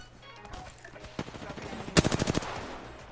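Gunfire in the Apex Legends video game: a couple of isolated shots, then a loud, rapid burst of about eight to ten close, punchy rounds, with faint game ambience underneath.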